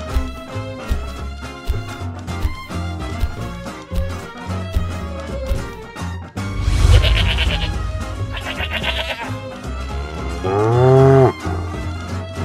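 Cattle moo loudly several times in a farm diorama scene, with long lowing calls rising over a busy bed of music and other animal sounds, the strongest near the end.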